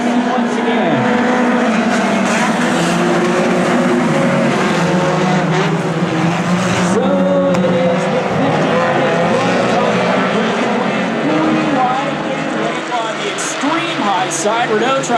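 Race cars roar around the Hornet track as the field goes back to green racing, engines blaring continuously and loudly with pitch sweeps as cars pass, while a track announcer talks over the noise throughout.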